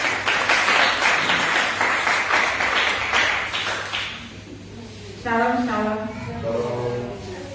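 A congregation claps rhythmically in praise of Jesus at a night prayer vigil of spiritual warfare, loud and steady for several seconds before the clapping fades and a voice takes over.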